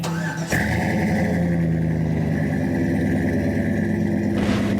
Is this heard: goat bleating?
no